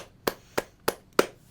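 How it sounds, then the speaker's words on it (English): Four sharp, evenly spaced hand claps, close and dry, each a crisp single slap with a brief pause between, alone without talk. "I applaud"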